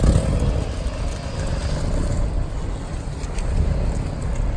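A Subaru WRX driving away after an oil leak repair, a continuous low engine rumble mixed with road and wind noise, steady and fairly close, with no one talking.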